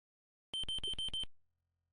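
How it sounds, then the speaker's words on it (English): A wristwatch in the Space Quest II video game sounds a quick run of five sharp electronic beeps, evenly spaced and close, then stops abruptly and leaves silence. "A beep emanates from your wristwatch."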